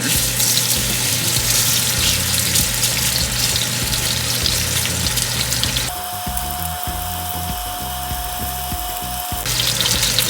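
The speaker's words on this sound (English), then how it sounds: "I am putting olive oil. And I'm going to put the pork chop" A seasoned pork chop sizzles in olive oil in a pan, a loud, continuous frying hiss nearby that briefly shifts to a thinner, steadier tone midway before the full sizzle returns.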